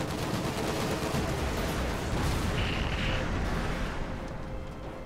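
Dense, rapid light machine gun fire in a World War II-style video game, a continuous rattling barrage with booming impacts mixed in, loud and sustained across the whole stretch.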